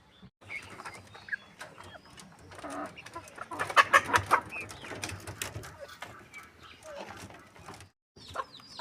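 Brahma hens and a rooster on a small home farm cluck and coo in a busy, irregular stream of close calls, peaking in a dense flurry midway before easing off, with a brief silent gap near the end.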